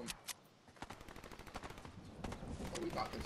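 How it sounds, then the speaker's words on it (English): Rapid automatic gunfire in a Fortnite match, bursts of close shots rattling in quick succession and growing denser toward the end, with players talking over the action. "They're gunfire."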